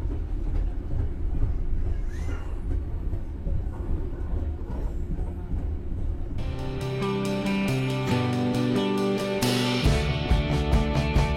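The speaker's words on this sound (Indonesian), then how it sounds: "kereta api Probowangi diberangkatkan kembali dari stasiun Probolinggo" A Probowangi passenger train rolls on rails from onboard, a steady rumbling ride that shifts into rhythmic clickety-clack of wheels over rail joints with metallic ringing.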